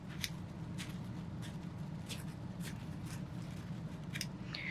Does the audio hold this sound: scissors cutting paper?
yes